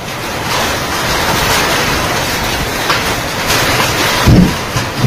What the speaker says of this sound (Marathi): गाराचा पाऊस सुरू झाला